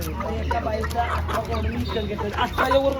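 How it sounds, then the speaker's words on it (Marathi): Free-range village chickens and a rooster cluck in short scattered bursts at close range, partly under a person talking over steady outdoor background noise. "आम्ही कोंबडा कोंबडीच्या शोधात गावरण कोंबडा कोंबडी हे बघा"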